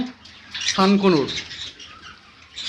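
Blue yellow side conure parrots give a loud, harsh squawking call close by, followed by fainter chatter and background chirps.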